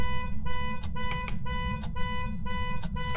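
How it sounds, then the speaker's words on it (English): A car alarm sounds inside the Phasmophobia ghost-hunting game: a steady electronic wailing tone broken by sharp repeated chirps about once a second, over a constant low rumble. "A car alarm is going off, dude."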